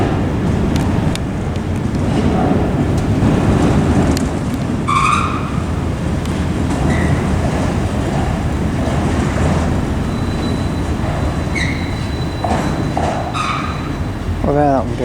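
An old freight train with very old wagons rolls through Perth station, a loud, continuous rumble and clatter close by with squeals and a brief horn-like tone, while someone talks over it.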